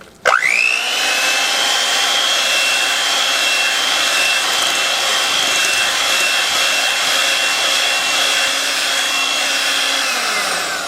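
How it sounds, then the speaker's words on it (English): An electric mixer whips cream with sweetened condensed milk, starting abruptly into a loud, steady, high whine that holds evenly for about ten seconds and then winds down slightly at the end, with no talking. "you want to keep whipping it until creamy"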